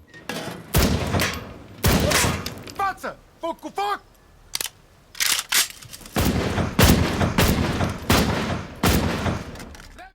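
Gunfire in an action film scene about a former soldier turned robber, sharp loud shots and bursts ringing out in rapid succession over dramatic sound, with voices speaking between the shots.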